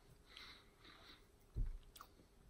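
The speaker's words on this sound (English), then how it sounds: "So I'm going to go ahead and eat the cream by itself." A few soft, close chewing sounds as someone eats the creamy filling of a Dark Chocolate Creme Oreo on its own, with one slightly louder bite and no talk.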